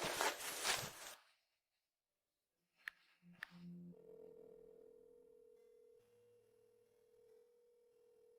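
Telephone call tones on a dialed number that does not answer: a short burst of noise, silence, a couple of clicks, then a steady electronic tone holding to the end, quiet overall.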